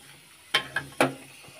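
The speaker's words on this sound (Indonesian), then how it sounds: "ini tinggal aku lanjutin untuk numis bumbunya" A blended spice paste for chicken curry is sautéed in a pan, with a few sharp scraping and clicking stirs over a faint, steady sizzle.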